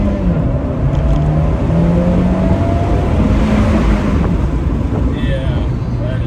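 A 2017 Fiat 124 Spider Abarth's engine revs and its exhaust roars continuously from a moving car, with steady wind rush over the whole stretch and no talking.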